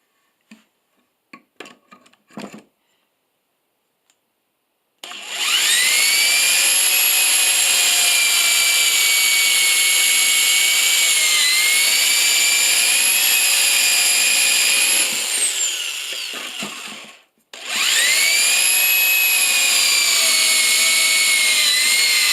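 A power drill bores pocket holes in 3/4-inch thick wood using a bit with a stop collar, a loud high whine that holds for about twelve seconds, drops out briefly, then starts again, after a few light knocks.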